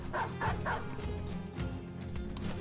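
Dogs from a video game bark and yip in quick bursts, three sharp barks up close and then whimpering and scuffling, all over a busy game soundtrack with no voices.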